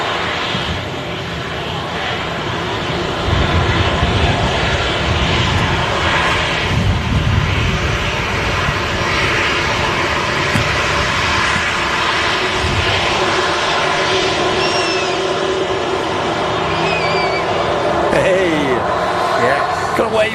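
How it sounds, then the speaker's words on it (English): TAP Airbus A321neo jet taxiing onto the active runway at Manchester Airport ahead of takeoff, a steady airport engine drone heard from a distance, continuous and moderately loud throughout, with voices talking over it. "And the tap's just entering the active runway now. Should be on his takeoff roll in the next few minutes."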